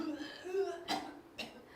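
People at a seniors' first-aid class cough on request, two short, fairly faint coughs spaced apart, after some low murmuring.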